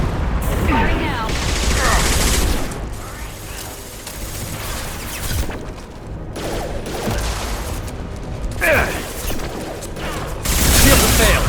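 Bursts of rapid gunfire and mechanical clatter in a Mass Effect 2 combat scene, with loud volleys at the start and end, fainter shots in between, and voices talking at times.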